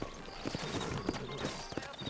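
Horse hooves clip-clop at a steady walking rhythm in Red Dead Redemption, set in New Orleans, with several distinct close hoof strikes and light background sound.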